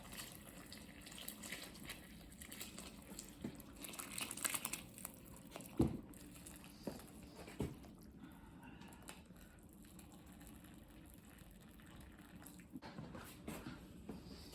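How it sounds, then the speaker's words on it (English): Hot liquid from a pot of homemade noodle soup is poured off through a sieve, a soft, uneven splashing and trickling with a few clunks, fairly quiet and close. "So I'm going to pour all of this off."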